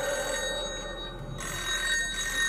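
A telephone rings with a bright electronic trill, repeating steadily in bursts over a faint background, loud and close.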